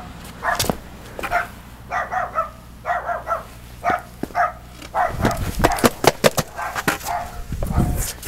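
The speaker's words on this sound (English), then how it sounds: "Yeah, he's still learning how to bark." A young dog barks in a steady series of short, clear yips and woofs outdoors, close and fairly loud, followed by a flurry of sharper clatter and movement.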